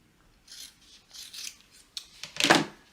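Scissors snipping through fabric for an upcycled pencil pouch, a few short soft crunching cuts and rustles building to a louder, closer final snip, heard alone.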